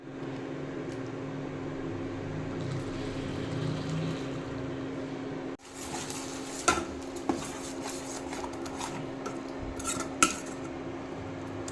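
Egg being mixed into dried anchovy thokku in a pan, with a spoon scraping and clinking against the metal in steady stirring strokes plus a few sharper knocks, close up and without talk.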